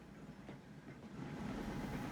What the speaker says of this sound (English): there are a lot of trams here